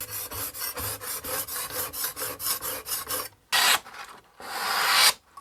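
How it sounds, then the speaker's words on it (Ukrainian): An axe blade is drawn repeatedly across the abrasive of a Work Sharp WSBCHPAJ-PRO knife sharpener, giving a steady run of close, bright rasping strokes followed by a couple of longer, louder grinding passes, with no talking. "тепер ми маємо можливість точити ось такі топорики"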